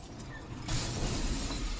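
Frosted glass wall shattering in the Batman: Arkham Asylum video game, a sudden loud burst of breaking glass and crashing debris that washes over steady background game noise, up close.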